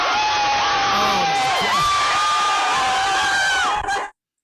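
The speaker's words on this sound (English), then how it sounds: "these same people have been cheering like this all night long" Crowd on Donald Street in Winnipeg, Manitoba, cheering and whooping loudly in long sustained shouts during a street celebration, a voice exclaiming on top before the sound cuts off abruptly.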